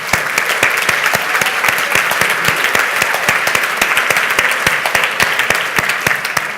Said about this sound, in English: a big round of applause for everybody who's made this happen